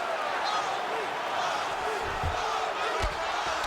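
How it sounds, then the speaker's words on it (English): A crowd cheers at a virtual MMA bout between Khabib Nurmagomedov and Johnny Walker in the EA Sports UFC 5 video game, a steady distant roar with a couple of dull thuds near the end. "crowd absolutely loving it"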